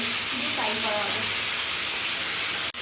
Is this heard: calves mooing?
no